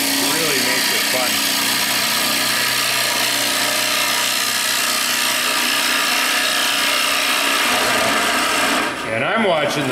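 A wood lathe spins a bowl while a hollowing system cuts inside it, giving a continuous loud scraping and rasping over the motor's drone, close by and without chatter.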